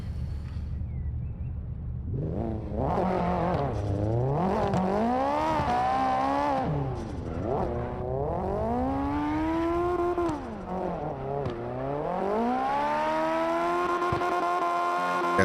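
A drag-racing car launches hard and accelerates through a qualifying run at a round-three event, its engine roaring loud and continuous with rising and falling pitch sweeps as gears change, starting from a low idle rumble.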